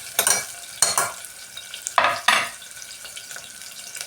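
Onions frying in oil in a pan, short bursts of sizzling and stirring clatter separated by quieter crackle, close and alone.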